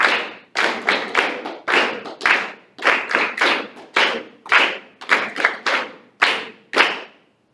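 An eighth-grade class claps out a counted rhythm exercise together, with sharp, loud clusters of claps falling in regular groups separated by brief silences, and no talking over them.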